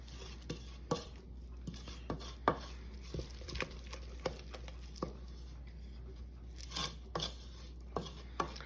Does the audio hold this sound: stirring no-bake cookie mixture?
yes